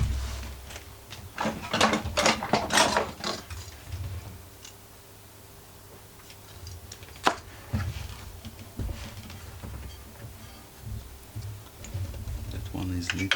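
A ratchet works the exhaust muffler screws on a Greppa GC950DC 720W portable generator, producing quick bursts of close, rapid clicking with pauses and a sharp tap, and a person talks quietly in between.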